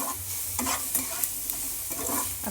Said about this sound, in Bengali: এবার পেঁয়াজটাকে টমেটোটাকে ভেজে নিতে হবে।